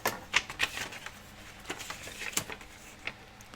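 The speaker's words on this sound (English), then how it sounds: "I'm just going to tear it off right across there" Paper is torn straight across for a secret journal pocket, giving a close, quiet, crackly rip with a few sharper snaps over a few seconds, alone and without speech.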